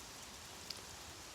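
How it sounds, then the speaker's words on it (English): Steady rain falls outdoors in woods, a soft, even hiss of drops landing on leaves and the ground, faint and continuous with no voices. "but it's just raining"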